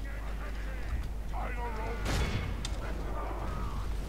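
Ballistae and catapults firing in a Third Age Total War battle: a cluster of booming, crackling shots with one louder burst mid-clip over a steady background of battle noise.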